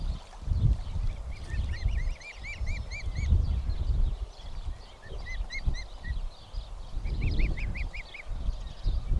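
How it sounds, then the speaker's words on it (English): Swans calling near a moored narrowboat at Yelvertoft, short honking notes in several bursts over a low rumble of water and wind, no voices. "I spotted the Yelvertoft Swans."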